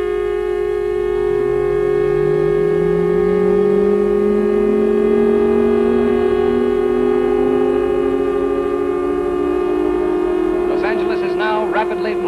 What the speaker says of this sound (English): There go the blackout sirens now.